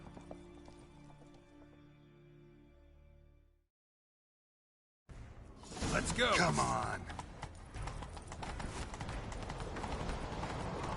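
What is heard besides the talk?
horses galloping in a video game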